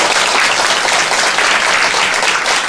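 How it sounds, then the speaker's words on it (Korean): A church congregation applauds during a Sunday worship service to welcome a guest, loud, dense and continuous clapping filling the room from start to finish with no voices over it. "한번 박수 한번 쳐주시죠"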